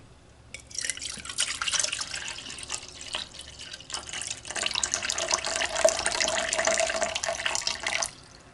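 Tap water pours steadily into a container while measuring water for a salt brine to make soap, starting with a few splashes and then running as a continuous close stream before stopping abruptly.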